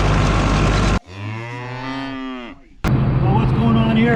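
A pregnant cow moos once, long and loud, at close range outdoors during a snowstorm. Strong wind roars before and after the call.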